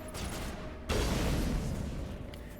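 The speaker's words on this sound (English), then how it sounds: "Surprisingly, the exploding barrel did not do enough damage." An exploding barrel goes off in the video game Mass Effect, a sudden loud blast that swells into a sustained rumbling roar over a steady background hum of game ambience.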